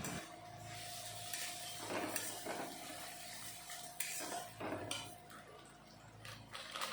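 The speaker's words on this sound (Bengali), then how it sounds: "বাটিটা ধুয়ে একটু জলও দিয়ে দিলাম।" Water runs and splashes as a bowl that held chilli paste is rinsed and tipped into a vegetarian banana-flower kofta curry, with clinks of the bowl against the pot and a few bursts of pouring over a steady kitchen hum.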